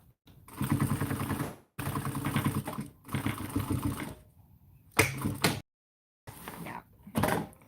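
A sewing machine top stitches a tote bag in several bursts of rapid mechanical chatter, each a second or so long, separated by brief pauses, close and fairly loud.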